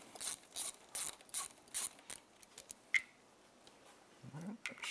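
A ratchet clicks in short repeated bursts while loosening the two 10 mm bolts holding a pipe on a Yamaha 60HP (T60) outboard during timing belt work, close and fairly quiet, followed by a few isolated metallic taps.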